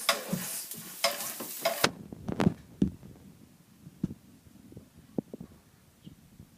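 Food with oyster sauce is stirred in a pan: a sizzling, scraping rush for about two seconds, then scattered soft clicks and scrapes that grow quieter.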